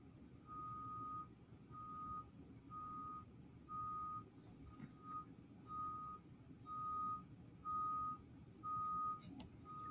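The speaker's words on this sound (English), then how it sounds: "There's the bus. It's only half hour late." A bus arriving with a vehicle's reversing alarm sounding about ten evenly spaced beeps over a low engine rumble, the beeps steady and moderately distant.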